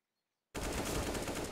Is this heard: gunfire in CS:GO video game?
yes